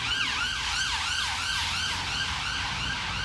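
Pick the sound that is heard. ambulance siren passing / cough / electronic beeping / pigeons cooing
ambulance siren passing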